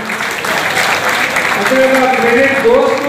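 An audience at a farmers' meeting claps together in steady applause, with a voice speaking over it from start to finish.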